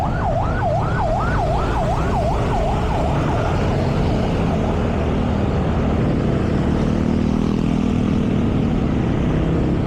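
An ambulance siren wails in fast rising-and-falling sweeps amid Manila traffic near a bridge, fading out after a few seconds beneath a steady loud rumble of road and engine noise.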